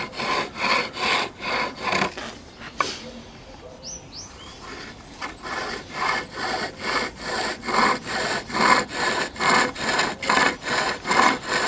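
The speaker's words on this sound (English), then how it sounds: "taking off those very fine hairs and shear cutting the wood and polishing the wood behind where you're making your cut" A skew chisel shear-cuts wood on a lathe, producing repeated rhythmic rasping strokes, each stroke a close, loud scraping pass, with a brief pause and a faint bird chirp partway through.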